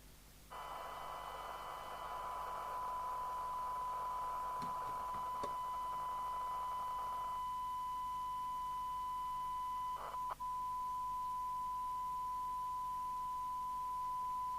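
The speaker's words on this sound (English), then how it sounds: "let's dial something into the signal generator and see whether it's receiving okay" A steady electronic tone from a signal generator comes through a Midland 48 Plus Multi CB radio on the repair bench. It holds constant for about fourteen seconds over faint hiss, with a few brief clicks and glitches partway through.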